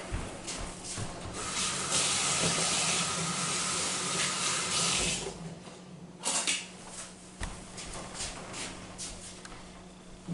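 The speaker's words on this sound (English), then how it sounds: "Let me wash my hands real quick" Hands being washed under a running kitchen tap, a steady close rush of water for about five seconds that then breaks into splashes, rubbing and scattered clatters as the flow eases.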